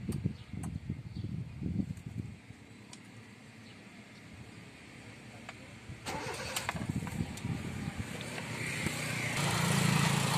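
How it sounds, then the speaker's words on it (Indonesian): A manual Honda City with an i-DSI engine cranks and catches at about six seconds, then settles into a steady idle that swells slightly louder toward the end, heard close up with no talking. "Nah, sekarang kita coba nyalain mesinnya"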